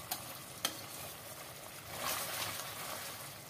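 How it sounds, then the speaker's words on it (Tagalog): Pork chops frying in butter in a pan, with a steady close sizzle, a couple of sharp clinks from stirring near the start, and a louder spitting swell in the second half. "atin lang imekos-mekos para manuot yung mga ingredients"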